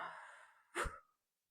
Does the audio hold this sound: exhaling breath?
yes